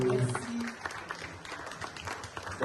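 Audience applause at an African culture day celebration welcoming an ambassador to the stage, a short spell of clapping mixed with crowd noise and some speaking voices.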